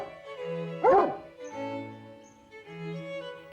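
A big dog in a children's cartoon gives one short, bright bark over soft background music.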